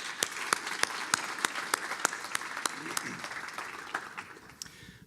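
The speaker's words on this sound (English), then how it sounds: "Can we get a round of applause for our new members?" Audience applause for new members welcomed at a regional chamber of commerce breakfast event, a steady patter of many hands clapping that holds for several seconds and then thins out, with some voices mixed in.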